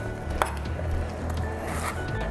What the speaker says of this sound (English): now I'm gonna just cut straight down through the middle